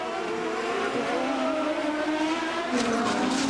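An IndyCar race car engine drones and rises at the Molson Indy street circuit in Toronto, a continuous loud whine with a sharper burst near the end, no clear crash impact.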